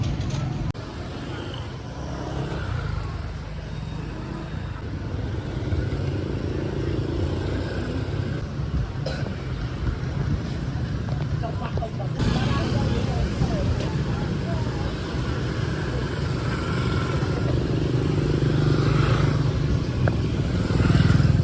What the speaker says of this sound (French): T'as des scooters qui vont de partout.